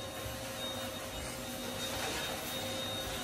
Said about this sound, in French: C'est l'aspirateur qui l'attaque, sois contente